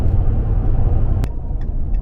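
A lifted Dodge Ram 1500 pickup cruising down the road, steady close engine and road rumble with a brief sharp hiss partway through, no talk.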